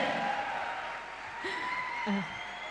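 Enthusiastic applause at a stage success celebration greets a woman being called up, a continuous wash of crowd clapping with brief voices cutting through.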